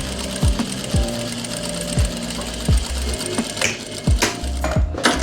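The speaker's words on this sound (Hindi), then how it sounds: "अब हम इसकी आसन की सिलाई लगाते हैं।" Close, loud sewing machine sewing a plazo seam, with a steady run of stitching punctuated by regular thudding knocks about once a second.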